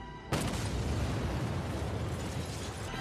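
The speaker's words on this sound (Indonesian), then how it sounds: "tiba-tiba terjadi ledakan besar dari bar tersebut" A big explosion bursts from a bar in a film scene, a sudden loud broadband blast that hits hard and then rolls on as a sustained rumbling roar for the rest of the moment.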